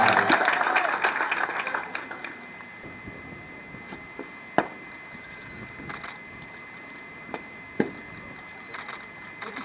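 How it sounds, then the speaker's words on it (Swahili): Crowd applause at a KDF military display, clapping strongest at the start and then thinning to scattered claps with a couple of sharp knocks, a voice speaking over it. "Tupe makofi na nduru Sara na Isula Kanai"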